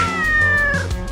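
A cat lets out a loud, drawn-out meow with a wavering pitch, close up and lasting about a second, with no talk over it.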